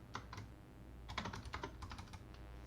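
Computer keyboard being typed on during a Lua programming lesson, a short run of light, quick key clicks in irregular bursts, faint and close with no voices.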